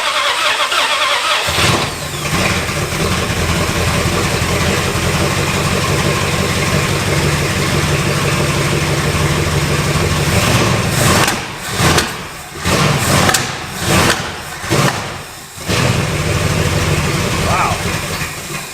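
An abandoned old Mopar engine with a Holley carburetor, bolted to a stand after 20+ years, catches and idles with a loud, rough, steady rumble, then stumbles and sputters near the end.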